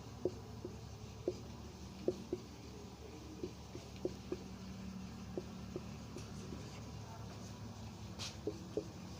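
Pen or chalk writing during a physics lesson, heard as a series of soft, scattered taps and short scratches over a steady low hum, faint and close, with no speech.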